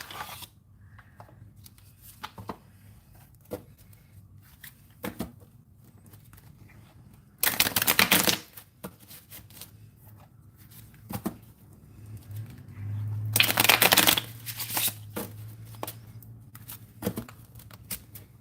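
A Nefertari tarot deck is shuffled in two bursts of riffling, papery card noise, with faint handling and taps between them in an otherwise quiet room.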